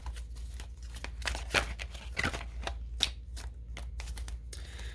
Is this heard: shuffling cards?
yes